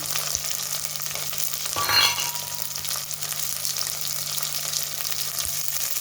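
Fresh green peas hit hot oil with ginger-garlic paste in a pan for veg pulao, giving a steady close sizzle that swells briefly into a louder crackle as they go in, then settles back to an even fry.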